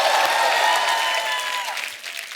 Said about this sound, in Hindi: एक बार जोरदार तालियां किशोर दा के नाम पे